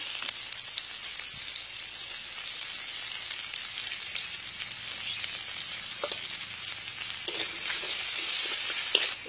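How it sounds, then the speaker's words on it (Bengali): Chopped onion sizzling in hot oil with bay leaves and five-spice seeds, a steady close hiss with a few soft stirring scrapes near the end. "দিয়ে দিলাম 5 ফোড়ন। এটাকে একটু নেড়ে চেড়ে দিয়ে দিব পেঁয়াজ কুচি"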